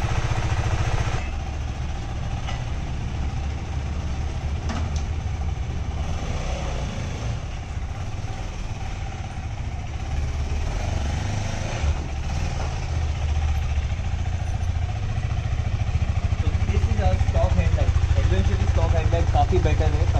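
A KTM 390 Adventure motorcycle engine idles and runs steadily at close range with a low rumble and clatter, while people talk over it.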